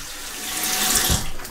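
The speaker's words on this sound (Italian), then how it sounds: "Allora adesso risciacquo con acqua fredda" Cold water gushes from a bathroom tap for rinsing the face after a wet shave, a loud steady rush close by that swells slightly as hands splash under it.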